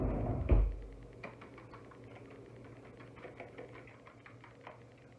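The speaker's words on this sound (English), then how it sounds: "We're going to grab a fork and whisk it up." A fork whisks five eggs in a bowl, giving quiet, rapid clicking taps in an uneven rhythm after a single louder knock at the start, all faint and close with no talking.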